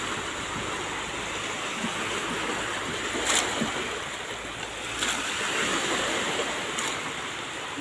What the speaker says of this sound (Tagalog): Lakas ng hangin at saka ulan